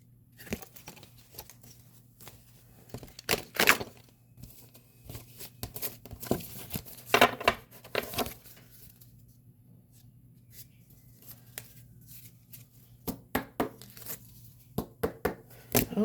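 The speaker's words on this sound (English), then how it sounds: "These don't shuffle very well like that." Winnie the Pooh oracle cards are shuffled by hand in a quiet room, giving clustered bursts of papery riffling and crinkling that come in uneven spurts with short pauses between.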